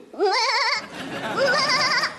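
A voice imitating a goat, two wavering, quavering bleats in close succession, loud and near, with a short gap between them.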